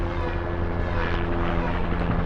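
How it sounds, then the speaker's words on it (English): A helicopter passes overhead during an outdoor garden lesson, its steady rotor drone loud and continuous without a break, while faint voice traces sit underneath the engine noise. "Don't mind that helicopter if you can hear it."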